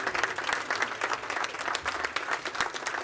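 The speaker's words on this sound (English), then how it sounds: "Another round of applause to mark this occasion." Sustained round of applause from an event audience, dense steady clapping filling the room throughout at a strong, even level.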